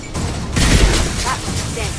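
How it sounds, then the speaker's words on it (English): A flashbang grenade detonates in the video game Mass Effect 2, a single loud, close blast swelling about half a second in and decaying into a rumbling tail amid game sounds. "Watch out! Flashbang!"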